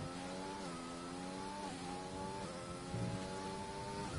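A Mercedes Formula 1 race car engine in F1 2020 screams at high revs through a chicane, pitch dipping and climbing as the car snaps into oversteer, loud and continuous with no voices.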